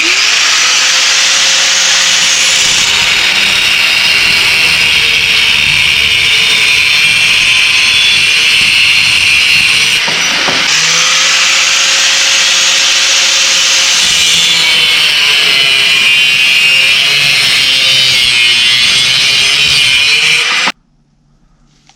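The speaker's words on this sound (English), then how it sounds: "So now I'm just going to lob the ends of these off. Angle grinder to cut off wheel." An angle grinder fitted with a cut-off wheel slices off the protruding bolt ends, a loud continuous high-pitched whine with two long cuts separated by a brief dip, then stopping abruptly.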